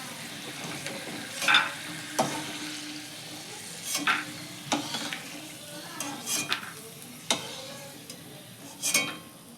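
Peanuts frying in oil in a village kitchen: soft steady sizzle punctuated by regular metallic scrapes and clinks of a ladle against the pan, close and moderately quiet, without speech.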